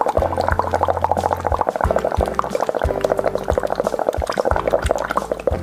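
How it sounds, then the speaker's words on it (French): Bubbles blown through a straw into a half-filled cup of water, the straw about a centimetre below the surface, make a steady, close burbling gurgle with rapid bubbling pops and no talk. "Nous allons faire des petites bulles."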